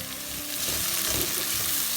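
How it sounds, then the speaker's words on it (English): Roasted tomato wedges going into a hot pan for Goan crab xec xec, a dense continuous sizzle with faint stirring scrapes, close and steady without any voices. "And now you can add the roasted tomato wedges in."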